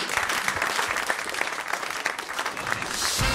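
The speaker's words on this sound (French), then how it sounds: "On vous applaudit" Audience at the Foire de Paris applauds, brisk dense clapping with individual claps audible, fairly close and sustained across the few seconds before a shift in sound at the end.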